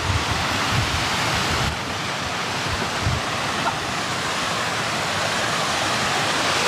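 A steady, broadband roar of falling water from a waterfall in Sierra Leone, loud and continuous throughout, heard from close by.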